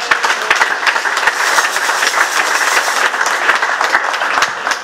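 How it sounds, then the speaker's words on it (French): Steady applause from the audience at a ceremony honoring Dr. Denis Mukwege with the MUTUZO Prize, dense and loud clapping that holds evenly for the whole stretch. "Elle mérite nos applaudissements"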